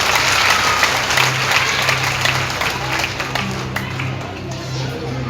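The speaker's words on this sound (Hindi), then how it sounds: "एक जोरदार ताली आप सब अपने लिए लगा देंगे।" An audience claps loudly and steadily at a Hindi spiritual discourse (satsang pravachan) for about five seconds, the applause holding throughout with faint talk underneath.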